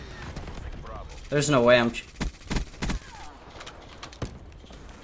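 Several sharp gunshot cracks in Black Ops 3 ring out amid game sounds and a brief electronic tone, spaced irregularly, while someone speaks over them.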